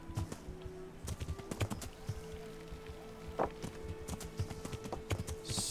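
Horse hooves clip-clopping in the video game Kingdom Come: Deliverance, irregular close knocks and clatters over a quiet ambient bed with faint birdsong, a sharper thump standing out midway.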